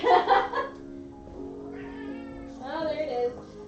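A cat meows loudly close by, a drawn-out meow followed by a second rising one, with no talking.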